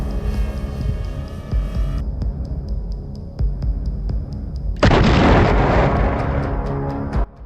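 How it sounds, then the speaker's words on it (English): A heavy explosion from an FPV drone strike on a trench booms out with a loud, broad roar partway through, following a steady low throbbing hum and a string of sharp repeated clicks. "the position was rocked by an intense blast that shook the surrounding earth"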